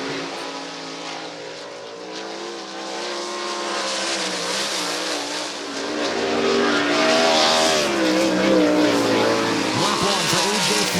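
A race car at Lernerville Speedway, a dirt oval in Pennsylvania, roars onto the track during a sprint car event. The engine noise is loud and sustained and grows stronger partway through, with a raspy, rising drone that carries steadily to the end.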